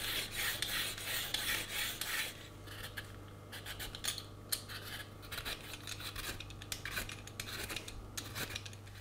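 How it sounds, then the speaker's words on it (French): Vegetables being peeled for a Norwegian pea soup, close scraping and rasping strokes in quick, uneven succession over a constant low kitchen hum, with no voices. "Pendant que le morceau de viande est en train de cuire, première opération, on va peler tous les légumes."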